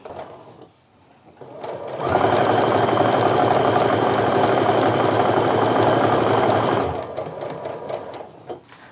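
A sewing machine stitches quilt pieces together in one steady, continuous run of several seconds, loud and close, with a quieter start and brief handling noise before and after.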